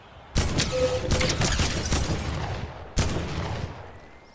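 Video game gunfire in a few loud, close bursts, one sustained volley fading out and then a second sharp burst near the end, with no talking.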